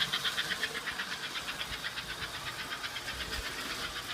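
American Flyer 332 model steam locomotive running through track switches, a steady close mechanical whir with a rapid rhythmic chuffing pulse and occasional low clunks, no talk.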